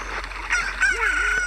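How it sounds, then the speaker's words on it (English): A newly hatched chicken in Zelda: Ocarina of Time lets out a loud, close rooster-like crow with a rising and falling squawk, alone over a steady background hum. "Look, a chicken hatched from the egg you were incubating."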